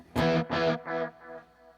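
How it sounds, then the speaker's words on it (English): An electric guitar strums three chords that decay in turn, through an Electro Harmonix Holy Grail pedal on its spring reverb setting, with the last chord ringing out and fading away alone. "You'll hear it ring out a little bit on the spring setting, just a touch of reverb there."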